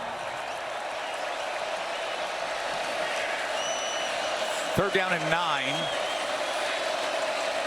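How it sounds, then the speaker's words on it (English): A football stadium crowd at DKR roars in a broad, steady wash for the Texas defense on third down, with a commentator talking over it and a brief whistle-like sweep midway. "As you can hear the crowd here at DKR bubbling up in support of their defense."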